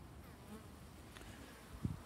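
Local Buckfast honeybees flying in front of their hives, a faint, soft buzzing hum with a brief close pass near the end, no voices.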